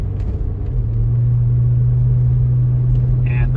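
Honda Odyssey minivan driving with a steady low engine drone and a rising hum as it pulls up through the gears, loud and continuous with road rumble.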